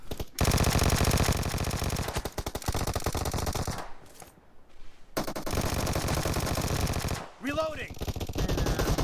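Loud rapid automatic gunfire in a video game, long dense bursts of shots broken by two short gaps, with faint talk underneath.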